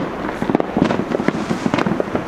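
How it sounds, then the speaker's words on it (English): Fireworks bursting all around a residential neighborhood on the 4th of July, a dense crackling barrage of overlapping pops and booms at mid distance, loud and continuous with no talking. "See our fireworks."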